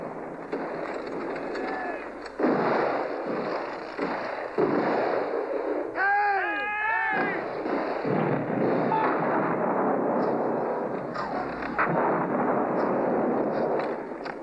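Rifle volleys and artillery fire in a period battle scene set in the American Civil War form dense, continuous booming and cracking, loud throughout, with shouted voices and a brief melodic cry in the middle.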